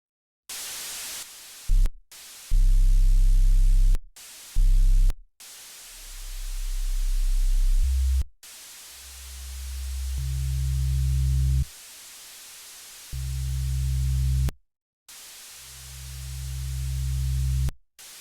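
Hissing static in BeepBox that cuts in and out in bursts with a low buzzing tone underneath, the noise sections gradually settling lower and softer.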